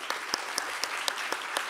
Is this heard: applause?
yes